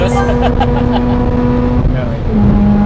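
Car engine in the racing game Project Cars, a Nissan S15 set up for drifting, holds a sustained droning hum with shifting pitch, and people talk over it.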